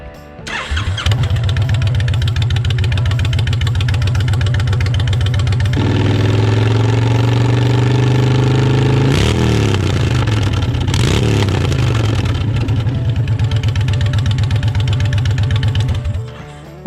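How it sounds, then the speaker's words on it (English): A Honda Fury motorcycle with a new STG 2-into-1 exhaust starts up close by and settles into a loud idle, with a few sharp throttle revs that rise and fall before it shuts off. "I'm gonna hit it, do a quick rev, and see how loud we can get just at idle"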